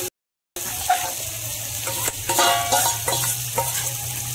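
Marinated chicken goes into a hot pan for Indian chicken biryani, setting off a steady loud sizzle and frying hiss with stirring scrapes and clatters throughout, after a brief silent gap at the very start.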